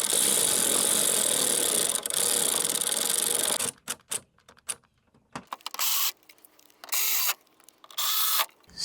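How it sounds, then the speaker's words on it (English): A ratchet wrench tightens a bolt on a door bracket inside a G37 Coupe door, opening with several seconds of steady mechanical whirring, then dropping to short separate bursts of ratcheting clicks with quiet gaps between them, close by. "I could tighten this bolt that's in here now."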